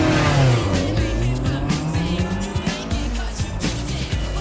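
A race car accelerates hard from a racing start, its engine note climbing through the gears with rough revving and tire noise, loud and close throughout.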